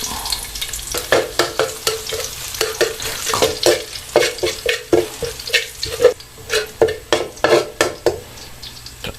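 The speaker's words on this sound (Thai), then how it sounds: "ใส่น้ำมันไปครับ กระเทียมใส่เข้าไปครับ" Garlic stir-fries in hot oil in a pan as the first step of a home-style Thai chicken liver and straw mushroom dish, a steady loud sizzle broken by repeated rhythmic scrapes and stirs of the utensil.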